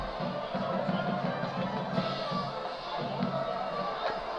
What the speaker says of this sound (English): A big crowd on hand, lots of students, lots of parents and fans.